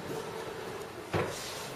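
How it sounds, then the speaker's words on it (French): An electric kitchen drawer in a home closes with a single brief soft thump near the middle, over a steady low room hum. "Les tiroirs dans la maison sont électriques également."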